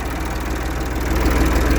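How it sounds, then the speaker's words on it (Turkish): A tractor engine runs with a loud, steady low chugging throb while filling a Bartec PT 400 sprayer with water, close by and continuous, with no talking. "Yine bir traktör gidiyor."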